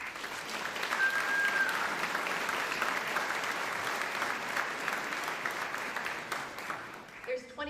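Sustained audience applause at a high school class of 2023 awards ceremony, a dense wash of many hands clapping for several seconds before thinning out at the end.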